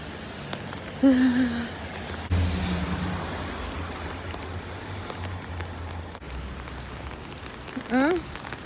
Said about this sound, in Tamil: பாருங்க மழை எப்படி பெய்யுதுண்டு, பயங்கர மழை